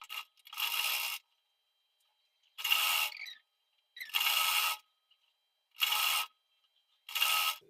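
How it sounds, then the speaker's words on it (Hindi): A sewing machine runs long basting stitches along blouse fabric in five separate bursts of whirring, each about half a second to a second long, with short silent pauses between them and no speech. "तो हम यहाँ पर सिलाई लगा लेते हैं बड़ी बखिया से"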